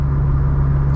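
A Honda Del Sol with a built B-series engine and catback exhaust drones steadily while driving, a smooth, even low hum with no breaks across one loud second.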